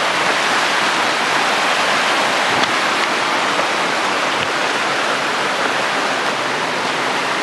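Rushing water of a mountain stream near Szklarska Poręba flows continuously, a dense, steady hiss of a fast stream over rocks, close and loud.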